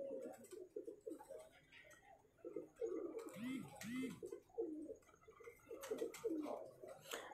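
Pigeons coo softly at night in Pasroor, with a couple of low, rolling coos amid faint twittering and a quiet background.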